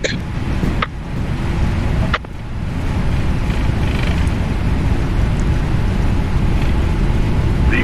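Boeing 777-200LRF cargo jet rolling down the runway for takeoff in the flight simulator FSX, a loud steady engine roar with a couple of sharp bumps and knocks near the start.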